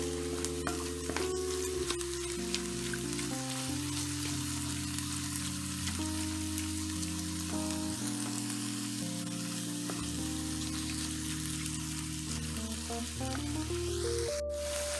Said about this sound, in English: I'm just going back in with my wooden spatula and I'm just going to mix it in thoroughly